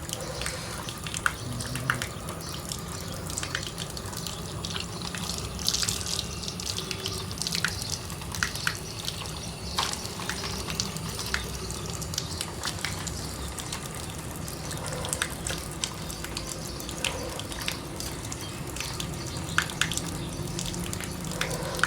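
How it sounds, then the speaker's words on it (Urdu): Water is poured over hands and feet during Shia wudu ablution, a steady, close running stream splashing continuously with small drips, with no one talking. "لیڈیز پہلے یہاں پہ وضو کا پانی ڈالنا ہے، لیکن بعد میں یہاں پہ، اور مرد یہاں پہ پہلے اور بعد میں یہاں پہ پانی ڈالنا ہے"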